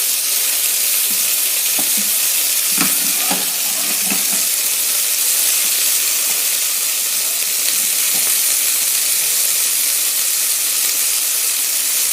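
Chicken pieces frying in a pan for Cantonese-style chicken, a steady loud sizzle and hiss running throughout with a few brief crackles and pops near the start.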